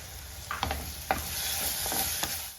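Ash gourd mixture sautéed with chopped green chillies in a pan, giving a steady sizzle with several sharp scraping and clinking stirs of a spatula, no voices.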